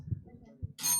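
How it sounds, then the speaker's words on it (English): A quiz bowl buzzer bell rings once, loud and close, in a bright ringing burst near the end, after a stretch of low murmuring room sound. "Who rang the bell?"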